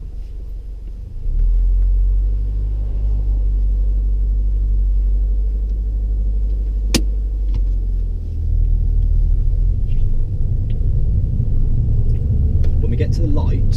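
Car under way during a driving lesson: a low, steady engine rumble and road noise fill the cabin, with a sharp click partway through and a few light knocks near the end.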